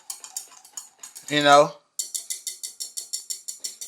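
Quick, regular metallic clinks of a whisk beating sauce in a pan, preceded by light clatter and a brief voice.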